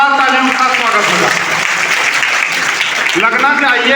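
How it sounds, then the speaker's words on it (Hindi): A crowd at a gathering in a college in Jakhania claps loudly and steadily, a dense wash of applause that lasts throughout with a few voices mixed in. "मैं चाहूंगा कि पहले तो एक बार जोरदार तालियों का स्वागत होगा।"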